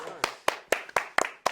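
Six sharp, evenly spaced claps from a small group in a teen health class, close and crisp, roughly four per second, with brief voices between them.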